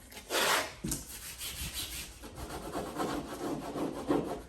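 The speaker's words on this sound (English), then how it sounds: "I'm simulating smoothing my wallpaper, right? I'm really getting the tape onto this surface, into the nooks and crannies." Hand rubbing and smoothing tape onto a painted wall surface, a series of soft scraping, brushing strokes close by in repeated bursts, with no talking.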